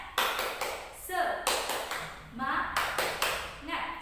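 A primary school class of fifth and sixth graders does the rhythmic tepuk semangat clap, sharp claps arriving in regular patterned bursts, with children's voices chanting along between them.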